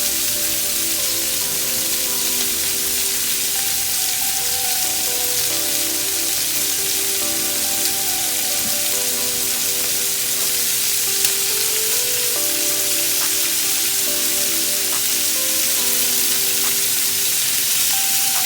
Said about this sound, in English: So now I'm just flipping over the shrimp, making sure it cooks even on all sides.